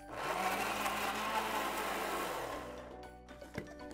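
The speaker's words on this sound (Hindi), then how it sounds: "टमाटर जो है वो बहुत अच्छे से पिस गया है" A mixer grinder purees tomatoes with green chili and cashews for dhaba-style paneer lababdaar, a loud steady whirring motor that runs for over two seconds, then winds down and stops, followed by faint clinks.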